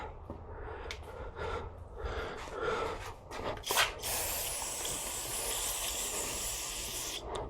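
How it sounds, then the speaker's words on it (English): Carb cleaner sprayed onto an engine part during a valve seal replacement on an MK7 Golf R, heard as short hissing bursts and then a long continuous aerosol spray, close and fairly loud. "just spray some carb cleaner on there."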